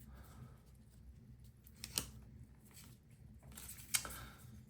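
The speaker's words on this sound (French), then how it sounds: "Ciseaux." Scissors cutting open trading card packs, two crisp, close snips about two seconds apart over quiet background noise.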